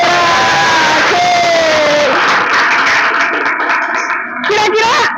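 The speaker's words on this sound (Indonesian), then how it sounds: "Kita kasih aplaus buat Jaikra." Students in a classroom clap and cheer together in a loud, sustained burst of applause mixed with shouts and voices, which fades slightly near the end.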